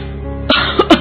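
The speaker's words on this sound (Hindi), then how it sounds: "ये खांसी तो जा ही नहीं रही है।" An elderly mother in a cartoon coughs harshly, with one cough followed by two quick rasping coughs; close, loud and without speech.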